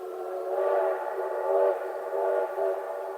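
A phantom train's horn sounds near a metro platform, a sustained tonal whistle that swells and dips in three loud pulses over a steady rumble, with no talk.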